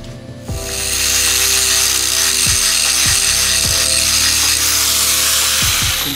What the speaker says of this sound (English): So we have to grind this flat.